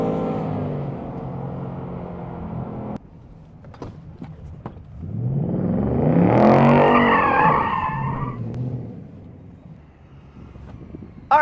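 A 2024 Ford Mustang driven hard: engine noise drops away, then tires squeal in a long rising and falling wail as the car is pushed through a slide, loud and close, with no talk.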